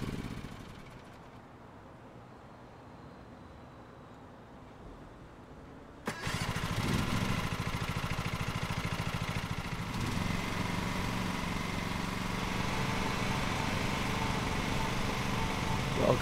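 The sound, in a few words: lawn mower engine in video game Lawn Mowing Simulator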